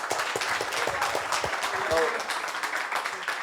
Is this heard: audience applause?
yes